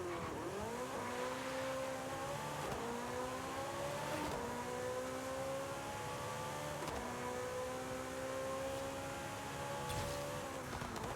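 A Porsche 911 Turbo S in Forza Horizon 5 accelerates hard down a half-mile drag run, its engine note climbing repeatedly through gear shifts in a loud, continuous roar with sharp breaks between each rising sweep.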